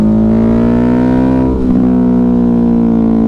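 A Ducati Hypermotard 950 RVE motorcycle engine held at a loud, steady high rev close by, with a brief dip and recovery midway and no talk.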